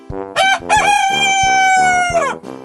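A voice imitates a rooster's crow, one long drawn-out cock-a-doodle-doo, loud and close over a steady rhythmic musical beat.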